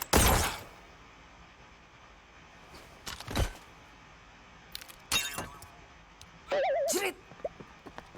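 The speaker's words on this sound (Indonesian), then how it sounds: "Ya, pecah guys topengnya guys." A mask shatters in a digital circus animated series, with a sharp burst of breaking glass up front and further crashes and clinks scattered after it, mixed with a brief high warbling cartoon effect.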